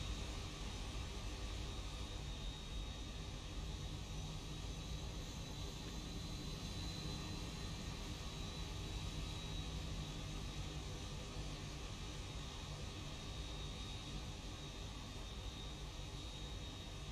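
Simulated Boeing 737-800 jet taxiing at Phoenix Sky Harbor in X-Plane 12, heard as a quiet, steady cockpit drone of engine hum and airflow hiss with a faint high whine, unchanging throughout.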